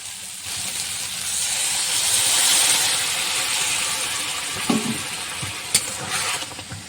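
A little water poured into frying banana flower curry with potato and spices makes a steady hissing sizzle that swells and eases, followed by a few sharp spoon clinks near the end, with no talking.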